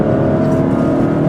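A 2015 Honda Fit's engine revs hard while driving, a loud, close, sustained drone from inside the car with no talking.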